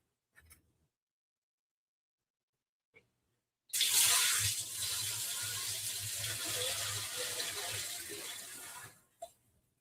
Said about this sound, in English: We'll dump in the 5-gallon bucket of hot water and OxiClean.